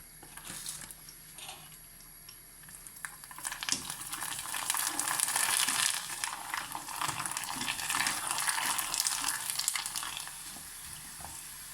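Shrimp chips fry in oil, bubbling and sizzling steadily in a continuous crackling hiss that swells louder midway and stays busy to the end.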